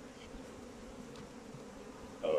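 Steady, dense buzzing of many honeybees up close at a hive during acacia honey extraction, a continuous hum that swells briefly louder near the end.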